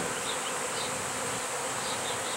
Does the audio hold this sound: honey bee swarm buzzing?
yes